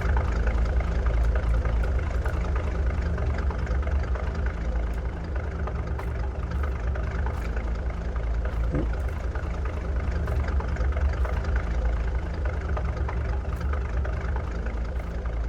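Quad bike engine idling steadily in the Farming Simulator 22 video game, a low continuous mechanical rumble with an even tone, fairly quiet and heard alone without talk.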